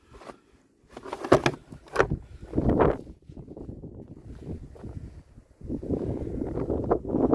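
Gusts of wind buffet the microphone in rough, uneven bursts, with rumbling noise swelling and dropping over several seconds.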